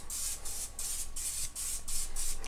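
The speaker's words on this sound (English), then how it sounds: "This is non-stick canola cooking spray." Non-stick canola cooking spray, a discount-store brand, hissing from an aerosol can onto a skillet in a series of short bursts of steady spray, close and fairly loud, with no talking.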